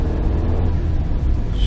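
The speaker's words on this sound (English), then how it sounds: "push the clutch in, first gear, release the clutch while giving it gas" Manual-transmission car pulling away in first gear as the clutch is released under throttle, a steady close engine drone with low rumble throughout, no talking.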